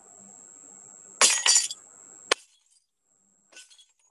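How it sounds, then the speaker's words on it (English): Glass breaking as a sound effect: a sharp crash with tinkling shards over about half a second, a single clink soon after, then a faint last scatter of fragments, all against a quiet hum. "It's a sound of breaking glass."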